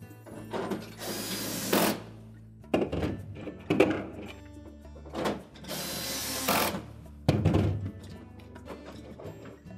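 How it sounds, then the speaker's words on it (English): Screws being driven in to mount the evaporator cover on a Whirlpool refrigerator during a defrost heater replacement: several bursts of mechanical whirring and ratcheting from a power driver, each a second or so long, with short thunks between them and no talk. "Now we're ready to put mounting screws in for the evaporator cover."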